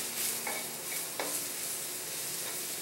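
Coarsely chopped shiitake mushrooms sizzle steadily in a hot pan while being stirred, with a few short scraping strokes over the constant hiss.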